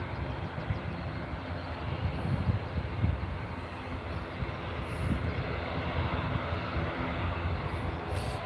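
ATR turboprop airliner landing at Edinburgh Airport, a steady broadband engine and airframe roar heard from a distance outdoors, holding at an even level throughout with slight swells.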